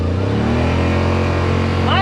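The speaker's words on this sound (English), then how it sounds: "try to get that peak rev exhaust note going up a hill" A Yamaha Rmax 1000 side-by-side with an RPM Performance muffler revs hard climbing a hill, a loud, sustained, rising exhaust note close to the microphone.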